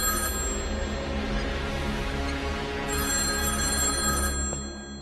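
A telephone bell rings steadily and continuously in a Telugu film scene, fairly loud and close, with no voices over it.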